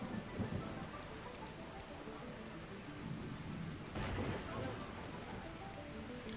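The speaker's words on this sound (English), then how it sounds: "Rain." Steady heavy rain hisses throughout, with low rumbles of thunder swelling in the background, in the video game The Legend of Heroes: Trails Beyond the Horizon.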